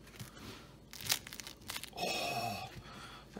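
A knife saws through a hot, crusty no-knead bread loaf, producing quiet crackling, tearing crunches of the crust in short bursts, close and soft with no talking.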